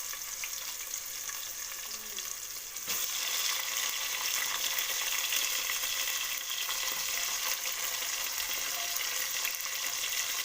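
Onion and tomato fry in a pan for a steady, soft sizzle that jumps noticeably louder about a third of the way in and stays hissing to the end. No one speaks.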